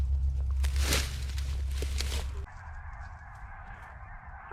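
Canada geese honk repeatedly during a goose hunt, loud and close at first with broad calls, then settling into a steadier, more distant honking chorus.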